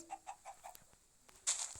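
A chicken in a survival video game clucks in a few soft, quick pulses, followed by a brief brighter squawk near the end, faint and with no talk over it.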